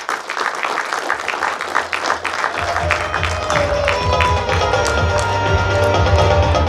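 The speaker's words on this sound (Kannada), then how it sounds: "ಜೋರಾದ ಚಪ್ಪಾಳೆಯೊಂದಿಗೆ" Loud applause at an award ceremony honoring actor Rangayana Raghu, beginning as scattered individual claps that swell into a thick, sustained crowd clapping, with tonal music rising underneath midway.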